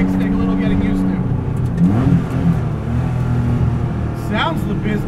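A 1970 Porsche 911 race car, now rat-rodded with manual brakes and no power steering, revs its engine close by, loud throaty rises and falls with brief voices over it.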